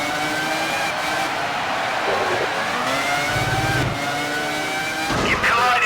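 Formula One car engines from the PlayStation 2 game F1 2001, a loud continuous high-pitched whine that rises and shifts with gear changes, with game speech and sound effects mixed in.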